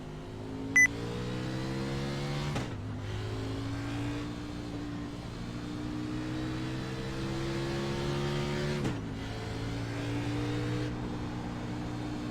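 Race cars at Pocono Speedway in an online league racing simulator, engine drone climbing steadily through gear changes with distinct shifts, steady and close with no talk.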